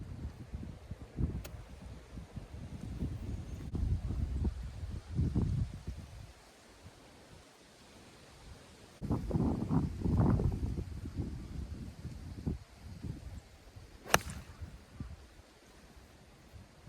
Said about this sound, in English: big puff of wind came through